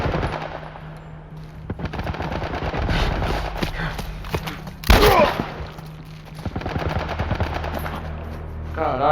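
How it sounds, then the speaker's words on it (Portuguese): A military gun turret in The Last of Us fires rapid bursts of automatic gunfire, sharp repeated cracks in rhythmic volleys with one loud close blast midway, as a voice shouts over the shooting. "Com que merda eles estão atirando em nós? Algum tipo de torre de tiro militar"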